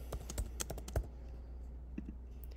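Computer keyboard typing while HTML tags are entered, a quick burst of crisp key clicks followed by a pause and a couple of softer taps, close and without speech.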